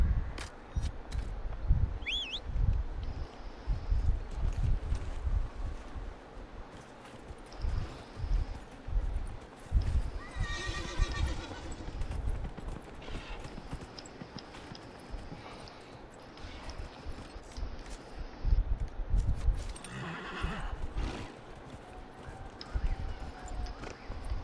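Horse hooves clip-clop in the video game Dragon Age Inquisition, a fairly faint rhythmic trotting that runs through the clip, with occasional louder bursts and a person talking at times.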